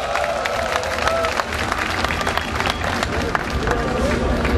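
Applause and crowd noise fill a candlelight rally calling for democracy and reform of the National Intelligence Service, following a performance; dense, steady clapping continues throughout with a babble of voices mixed in.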